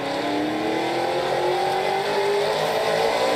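NASCAR Pinty's stock cars race in the General Tire 125 at Sunset Speedway, engines roaring loud and steady with a rising, revving pitch as cars push through the pack, with no talk over it.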